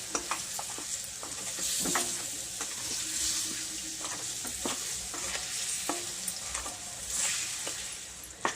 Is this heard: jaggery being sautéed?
yes